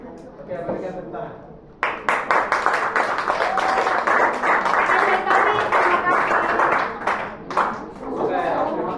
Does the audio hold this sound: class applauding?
yes